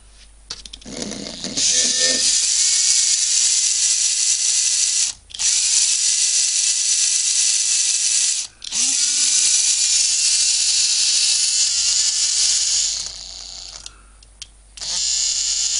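A cordless electric screwdriver driving screws while a Makita motor is reassembled, loud close high whirring bursts broken by brief pauses between runs, with a faint clatter of parts near the start.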